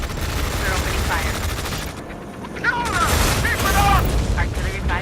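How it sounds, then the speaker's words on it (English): Rapid gunfire and explosions in the video game Tom Clancy's EndWar, with dense bursts of weapon fire, booms and whistling effects throughout, and voices briefly in the mix. "We're opening fire."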